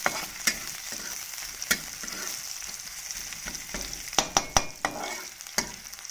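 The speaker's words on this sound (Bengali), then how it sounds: "রসুনগুলো দিয়ে দিচ্ছি এরপরে আমাদের বেশি কিছু না একটু হালকা করে নাড়াচাড়া করে নিতে হবে হালকা একটু লাল লাল করে ভাজতে হবে" Garlic frying in a pan of oil as it is stirred, a steady close sizzle broken by sharp scraping taps of the spoon against the pan, several of them coming in a quick cluster near the end.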